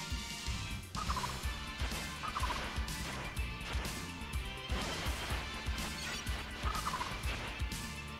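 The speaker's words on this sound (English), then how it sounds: "Oh god, the chicken comes back" A chicken enemy in Castlevania: Rondo of Blood squawks in short clucking bursts a few times amid dense game music and clattering hit effects.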